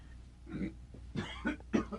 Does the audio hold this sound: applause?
no